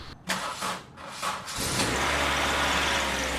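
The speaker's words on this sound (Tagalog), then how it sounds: "Tsaka mo ngayon start na itong makina" A Honda CR-V engine, under brake master assembly work, cranks briefly after a few short rustling bumps, then catches and settles into a loud, steady idle that runs on alone.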